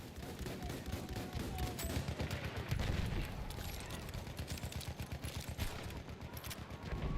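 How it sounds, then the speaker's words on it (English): Rapid enemy machine gun fire in Battlefield 1, a loud fast rattling stream of shots that grows denser toward the end, with faint background voices. "Enemy machine gun sighted."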